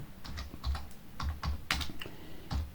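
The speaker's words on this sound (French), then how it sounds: "si je fais comme ça, et que je reproduis la mise en forme ici, et que je tape mon texte" Text typed on a computer keyboard into a spreadsheet, a close series of crisp key clicks in uneven bursts with a few heavier thumps, alone without talk.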